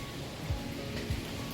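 Steady rain falls in a broad hiss over a city street under heavy clouds, with a few low thumps; nobody speaks.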